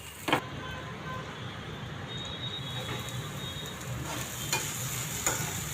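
Poha upma with salt being stirred in a pan on the stove, a steady soft scraping and gentle sizzle with a few sharper utensil knocks against the pan, close by with no talk.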